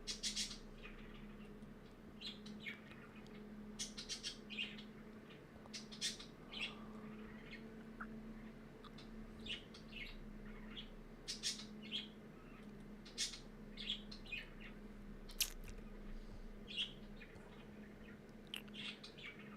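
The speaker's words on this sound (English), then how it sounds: "The birds are getting a little bit louder today." Birds chirp and tweet outdoors at a moderate distance, with scattered short calls repeating irregularly over a steady low background hum, with no talk.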